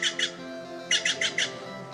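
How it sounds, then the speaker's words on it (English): Harsh, raspy Steller's jay squawks, two calls followed by a run of four, loud and close, with no talking. "Stellar's jays."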